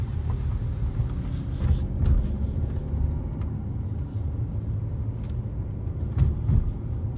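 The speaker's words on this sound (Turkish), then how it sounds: "Dizel olduğundan ötürü biraz tabii ki de motor sesi var." Steady low rumble of a Mercedes E200d W213 diesel engine heard from inside the moving car, constant and fairly loud with occasional faint clicks.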